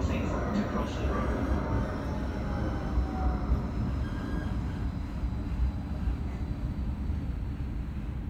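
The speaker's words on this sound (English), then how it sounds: "Hold on, tram departing." A Gold Coast G:link light rail tram pulls away and runs on, giving a continuous rolling rumble with faint squeals and hums at a moderate level.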